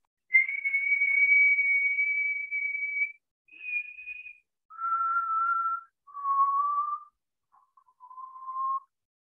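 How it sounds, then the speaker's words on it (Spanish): A person whistles a series of steady sustained tones, first a long high note, then shorter notes stepping lower, with brief pauses between them. "Estoy silbando."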